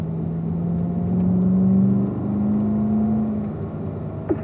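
Car accelerating on a race course, a steady mid-pitched engine drone with a rising tone and a slight rev change, heard close without talk.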